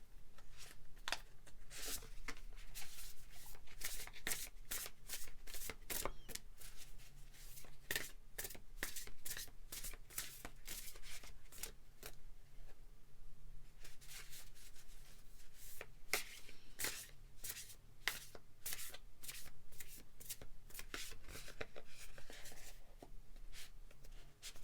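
Tarot cards being shuffled and drawn for a pick-a-card reading, a steady run of crisp papery riffles, slides and snaps lasting throughout at close range with no talking.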